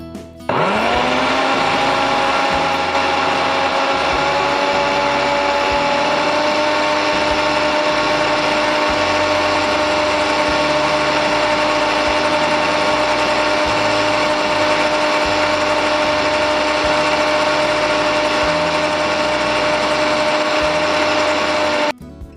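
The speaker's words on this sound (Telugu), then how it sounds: "ఇప్పుడు మిక్సీ చేసుకుందాం." A mixer grinder blends apple and cashew into a smoothie, starting abruptly and then holding a loud, steady whirring roar with a high motor whine until it cuts off at the end.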